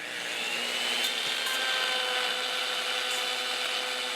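A router cuts a decorative edge along a base made from pressure-treated wood scraps, a steady high whine and rasp held at even loudness throughout, close up with no talking.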